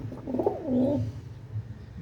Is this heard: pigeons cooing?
yes